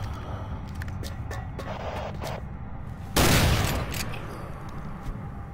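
A single heavy, booming shotgun blast from Doom 3 stands out loud and close against a low, steady game ambience with a few faint clicks around it.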